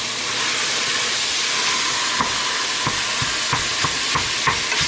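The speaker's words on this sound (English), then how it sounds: "And then I'm just going to throw in the bacon" Bacon dropped into a pan for keto chili, a loud dense broadband sizzle and hiss throughout, with occasional soft spatula taps and pops near the end, no voices.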